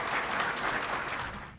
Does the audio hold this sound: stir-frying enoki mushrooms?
no